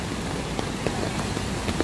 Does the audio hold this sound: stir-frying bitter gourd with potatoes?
no